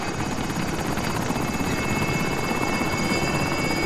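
An attack helicopter in a video game, its rotor giving a loud, steady, close thudding chop with a continuous engine whine that never lets up, with no voices over it.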